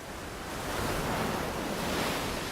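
Ocean waves breaking on a Hawaiian shore of the Pacific, a steady broadband roar of surf that swells slightly and holds, with a little wind noise and no voices.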